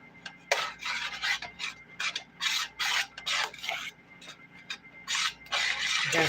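A whisk scrapes and rubs against the bottom of a pot of vanilla pudding in a series of close, rhythmic stirring strokes with short pauses between them.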